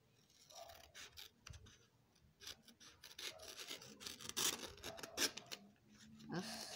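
Scissors cut through a sheet of paper for an art notebook, making faint, close rasping snips that build in strength over several seconds.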